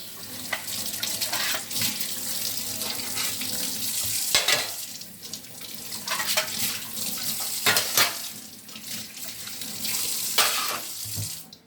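Tap water runs steadily into a sink while instrument trays are rinsed during dental instrument cleaning, a continuous close splashing with brief shifts and clinks as the trays move under the stream.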